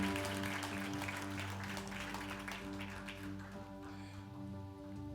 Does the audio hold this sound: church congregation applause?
yes